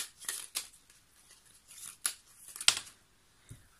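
Angel oracle cards are drawn and handled, giving a few sharp papery swishes and flicks spaced irregularly, close and fairly quiet between them.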